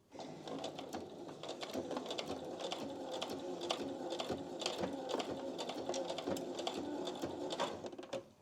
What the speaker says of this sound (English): I'm just going to do these last few stitches and then back stitch just at the end there